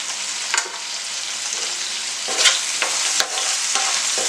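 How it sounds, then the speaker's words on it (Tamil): Onions and spices with salt and asafoetida sauté in a pan for kuzhambu, a close, loud sizzle broken by several sharp scraping stirs of a spoon against the pan. "இது நல்லா வதங்கட்டும்."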